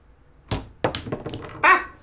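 A toy catapult fires during a Catapult Kingdoms tabletop game: one sharp close clack, then a few lighter knocks and a final louder clatter as pieces are struck, with no talking.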